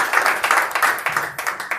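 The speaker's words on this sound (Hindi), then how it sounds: "एक जोरदार तालियां बजाएं।" An audience claps in a short, strong burst at an event, dense rhythmic handclaps pulsing evenly and close for a couple of seconds.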